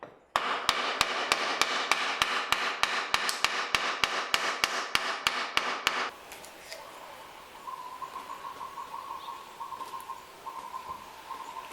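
Hand tool taps apart a wooden rising dovetail joint in handmade woodworking: about twenty sharp, evenly spaced knocks in quick succession, close and loud, then they stop, leaving a quieter background with a faint steady tone.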